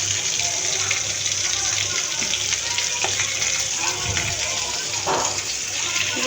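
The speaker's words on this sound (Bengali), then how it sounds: "এই মাছটা ভাজতেছি" Fish frying in a pan gives a loud, steady sizzle throughout, with running water and faint clinks nearby and a voice heard talking.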